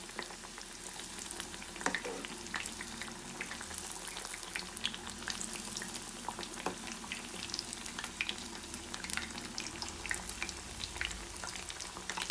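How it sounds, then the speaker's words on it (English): Ripe banana fritters (pazhampori) frying in hot oil give off a faint, steady, fine crackle and bubbling sizzle that continues without a break and with no voices. "You have to fry it till they are slightly golden"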